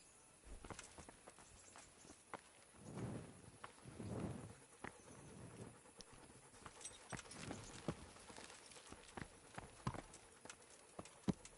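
Horse hooves trot along in Kingdom Come: Deliverance, a medieval game, with clip-clop steps that thicken into a brief rhythmic run around the middle, then continue as scattered, fairly quiet footfalls.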